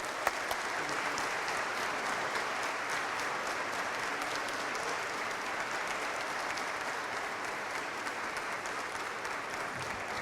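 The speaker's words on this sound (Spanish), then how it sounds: "Un fuerte aplauso de nuevo para el doctor" A lecture audience claps after a talk on a new or reformed constitution, a dense steady applause that holds at moderate, somewhat distant level from start to finish.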